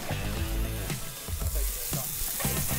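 Thick-cut bacon sizzles and crackles steadily on a flat top griddle, with bursts of spatter and a faint tonal hum running beneath it.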